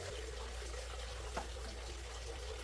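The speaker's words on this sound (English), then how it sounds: "Splash in a little water so the spices don't burn" Water splashed into a pan of spices frying for a South Indian minced lamb curry, a steady sizzle and trickling hiss with one brief louder spatter, moderately faint.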